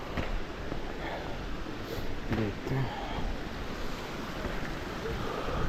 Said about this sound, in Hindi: पानी की आवाज़ आ रही होगी तुम्हें बिल्कुल।